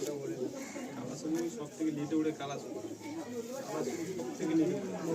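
Nazra Kaldom long-size pigeons coo softly and steadily in the background while a person talks close by over them.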